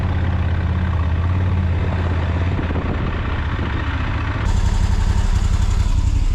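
A Moto Guzzi Griso motorcycle idles in a garage, its loud, steady low engine beat running throughout and growing slightly harsher and louder near the end, with no talk.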